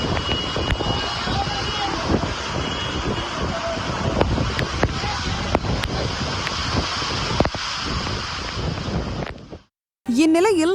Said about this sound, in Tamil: திடீரென 80 முதல் 100 கிலோமீட்டர் வேகத்தில் பலத்த காற்றுடன் புழுதி புயல் வீசியது